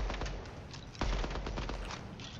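Rapid hip-fire gunfire in an online shooter game, a dense run of sharp shots with a heavier burst near the middle, sitting steadily under the mix with no talk.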